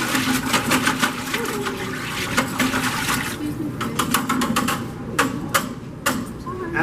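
A whisk stirs Ripe Plum pottery glaze in a bucket, a loud, close, sloshing churn of liquid with quick clicking and knocking strokes against the container.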